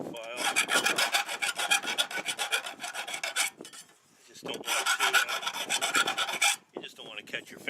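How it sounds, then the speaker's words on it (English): Rasping strokes of a rat-tailed file clearing burrs from drilled holes in metal for a hobo stove, two long bursts of rapid back-and-forth scraping separated by a brief pause, close and fairly quiet, no voices. "Just take a rat-tailed file."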